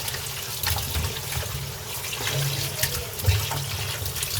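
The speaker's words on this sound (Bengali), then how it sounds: "আমি এই মাংসটাও ধুয়ে নিই ভালো করে" Water runs steadily from a kitchen tap while chicken meat is washed in the sink, a close, continuous splashing flow with occasional louder splashes and clunks as the pieces are handled.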